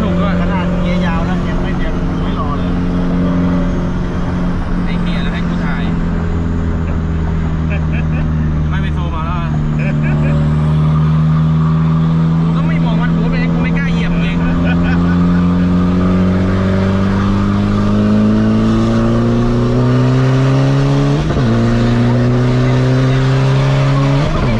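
A car engine pulls hard through long gearing while driving, a loud sustained drone rising and falling in pitch across gear changes, with people talking over it throughout.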